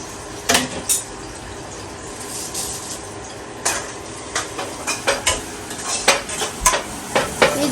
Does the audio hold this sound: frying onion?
yes